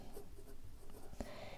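Fountain pen nib scratching across paper, a smoothed architect-style grind from Techo, with faint scritching strokes and a brief louder tick near the end, quiet and close.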